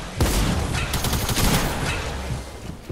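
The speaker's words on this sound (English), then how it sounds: "Bro, this guy has two shotguns." Close, loud shotgun blasts in a video game, fired in quick succession with heavy booming hits and ringing tails, filling the whole stretch with no talk.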